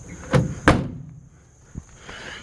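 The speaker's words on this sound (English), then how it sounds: "Doors open and close real nice." Two heavy metallic thunks in quick succession, a 1950 Ford F1 truck door shutting firmly, followed by a quieter knock and a low hum of background noise.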